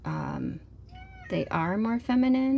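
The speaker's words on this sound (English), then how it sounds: "That's my cat." A house cat meows several times in rising, drawn-out calls, close and fairly loud, alternating with someone speaking nearby.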